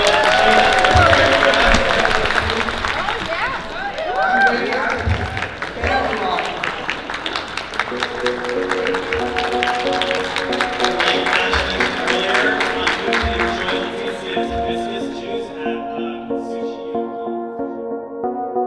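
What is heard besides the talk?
audience applause for chef Leticia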